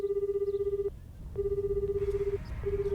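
A telephone rings in Death Note anime, in two long electronic bursts with a short pause between them and a third starting at the end, heard clearly over a low background hum.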